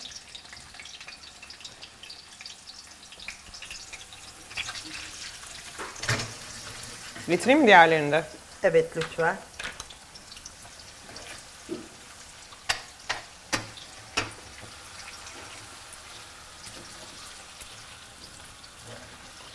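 A steady sizzle of carrots frying in hot oil hisses underneath as people talk nearby, with occasional clinks and clatters of utensils.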